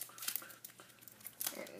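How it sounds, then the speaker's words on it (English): A foil trading card pack is torn open, giving short crinkling and ripping bursts close up, with people talking over them. "Some of these packs are kind of harder to open"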